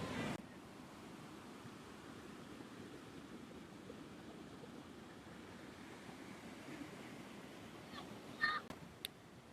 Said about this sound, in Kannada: ಈ ಅಲೆಗಳ ಶಬ್ದ ಎಷ್ಟು ಜೋರಾಗಿರುತ್ತೆ ನೋಡಿ